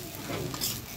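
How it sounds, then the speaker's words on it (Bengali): Drumstick leaves stir-frying in an open, uncovered pan, a soft steady sizzle with light scraping as the greens are turned, quiet and close with no voices. "আমি ঢাকনা ছাড়াই উল্টে পাল্টে কিছুক্ষণ পরপরই নেড়ে ছেড়ে ভেজে নেব"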